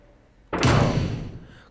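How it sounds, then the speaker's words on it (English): Door closed violently in the Umineko visual novel game, a single loud sudden slam after near silence, ringing and fading over about a second. "Closing the door somewhat violently,"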